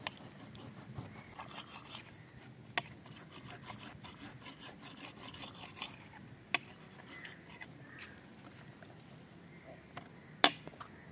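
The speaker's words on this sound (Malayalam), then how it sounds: "നമുക്ക് ഇനി ഇത് മൂന്നാല് പീസായിട്ട് കട്ട് ചെയ്തെടുക്കാം" A knife saws through beef on a board, producing repeated scraping strokes with occasional sharp taps of the blade, close and fairly quiet with no talking.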